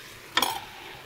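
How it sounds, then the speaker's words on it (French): Carrots drop into a Moulinex Cookeo multicooker with a single brief, bright clatter and a short ringing tail against a quiet room. "J'ajoute les carottes"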